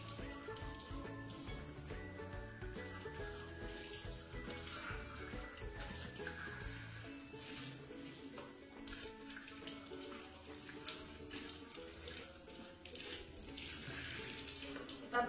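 Water runs steadily from a tap over a baby bottle nipple being washed, a continuous close splashing rush lasting throughout with no speech.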